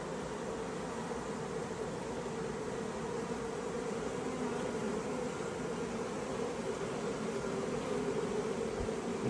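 A swarm of honeybees gives a continuous low buzzing hum that holds steady throughout, mixed with faint rustling and no talk.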